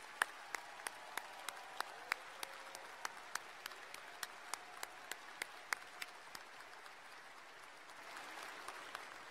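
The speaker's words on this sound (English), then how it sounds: "Another round of applause for our graduates." Audience applause for graduates at a graduation ceremony: a broad, steady wash of clapping from a large crowd, with sharper individual claps standing out near the front throughout, fairly soft and even in level.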